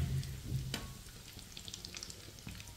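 Food sizzling gently in a pan over low heat on a stove for an Eid dish, with a soft, steady frying hiss and a few light clicks near the start.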